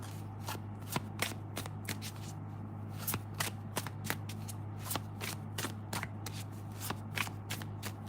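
A deck of cards is shuffled for a card reading. Quick, close riffling flicks and snaps repeat steadily over a constant low hum, with no voices.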